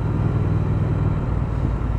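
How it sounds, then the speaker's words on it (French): A Triumph Speed Twin 1200 motorcycle engine rumbles steadily on deceleration, a continuous low, dense drone held close and even throughout, with no talking. "Vous entendez un peu le grondement du moteur à la décélération."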